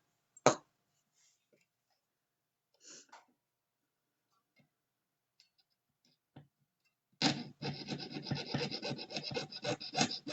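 A few scattered clicks and taps, then steady back-and-forth rasping of a hand saw cutting a small metal piece, close and fairly loud.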